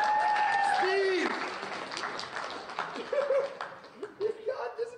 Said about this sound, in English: Big round of applause, you guys!